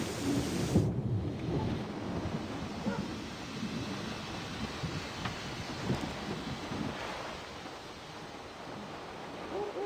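A thunderstorm in the video game Syberia: The World Before, with steady heavy rain and rumbling thunder rolling through the whole stretch, loud and close, with no voices.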